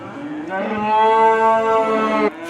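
A single long, loud cow moo on a British dairy farm, close and resonant, rising and holding for nearly two seconds before cutting off abruptly, with quiet farmyard ambience around it.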